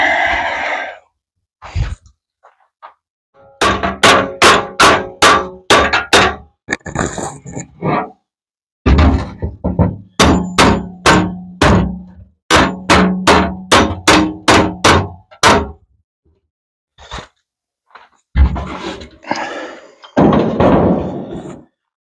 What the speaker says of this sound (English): let's go hammer that out a little.